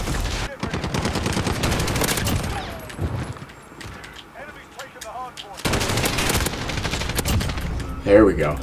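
Gunfire rattles in the video game Call of Duty Modern Warfare. Rapid automatic bursts come up close, drop to a lull with scattered shots in the middle, then return in dense volleys.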